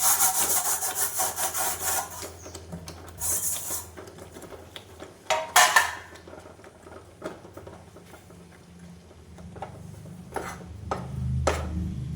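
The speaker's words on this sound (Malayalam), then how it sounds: "നല്ലതുപോലെ നമ്മൾ ഇളക്കി കൊടുക്കണം. അല്ലെങ്കിൽ അടിയിൽ പിടിക്കും." A spoon stirs thick urad dal batter in a pot, giving steady close scraping and rubbing against the pot with a few sharper knocks, heard alone without talk.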